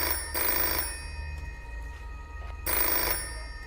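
Telephone bell ringing in two loud bursts with a pause between, a steady electronic ring over quiet room tone, from a Hindi-dubbed movie scene.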